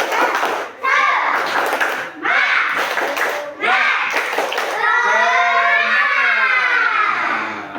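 A standing classroom group performs a tepuk semangat cheer, bursts of rhythmic clapping alternating with loud voices chanting together, the clapped patterns and group chant close and energetic.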